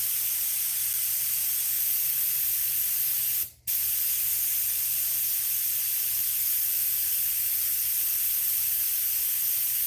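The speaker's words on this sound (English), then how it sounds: "Just getting the airbrush cleaned." An airbrush being cleaned sprays a steady close hiss throughout, broken by one brief sharp burst partway through, with no talking.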